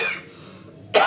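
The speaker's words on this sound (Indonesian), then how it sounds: "Makan sambil batuk." Someone coughing while eating: a close, raspy cough, a brief quiet pause, then a sharper second cough burst.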